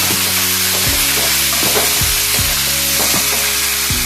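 Chopped onion, tomato and coriander leaves frying in a pan for sprouted horse gram saaru, a steady close sizzle with regular knocks and scrapes of stirring repeating underneath.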